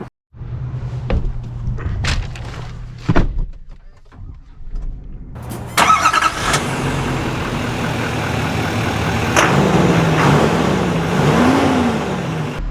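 A GMC Sierra 3500 AT4 diesel pickup engine starts with a few clunks, then settles into a low rumble that builds as the truck pulls away and drives steadily.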